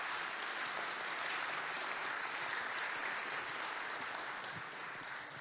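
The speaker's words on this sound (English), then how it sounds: "Let's give him a round of applause, please." A conference audience at DefCamp 2024 applauds after a security talk, with steady, even clapping throughout that tapers only slightly at the end.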